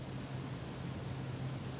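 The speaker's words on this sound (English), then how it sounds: "Just the tape, I imagine it's a tape noise or room noise." Steady tape hiss from the Spitfire Audio Aperture Cassette Symphony library, a soft, even broadband noise with a faint low hum, continuous and unaccompanied throughout.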